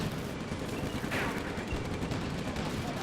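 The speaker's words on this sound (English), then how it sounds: "Artillery is now firing at this position." Artillery fire in the WWII strategy game Combat Mission: Afrika Korps, a continuous rumble of distant gunfire with one sharper blast standing out in the middle.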